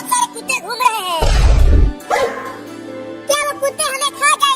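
Cartoon dogs bark loudly in a short burst of overlapping barks, set among animated children's voices and music in a Hindi comedy cartoon.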